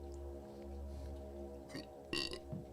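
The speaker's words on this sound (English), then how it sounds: "only burp into the mic if it's going to be a good one" A short, close burp goes right into the microphone, rough and low, heard over a faint steady hum.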